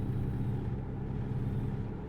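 A vehicle approaching on the road in American Truck Simulator, a steady low engine rumble that holds evenly throughout, with no clear build or pass.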